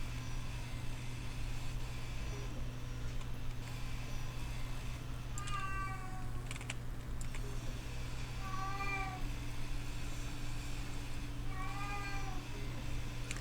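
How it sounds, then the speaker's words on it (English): An indoor cat meowing upset at a closed office door, three separate plaintive rising-and-falling meows spaced a few seconds apart over a steady low mechanical hum, no speech. "one of our kitties is upset that she can't get into Mom Bear's work office"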